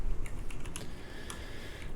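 Rapid keystrokes on a computer keyboard while playing a farming simulator game on PC, a quick irregular burst of clicks close to the microphone with no talking.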